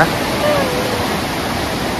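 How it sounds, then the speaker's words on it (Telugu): The Bhagirathi river at Devprayag, a fast, turbulent stream in the Himalayan foothills, roars steadily and loudly from nearby, a dense unbroken rush of water. "ఇది భాగీరథి నది అన్నమాట."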